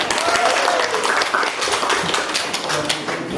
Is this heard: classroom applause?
yes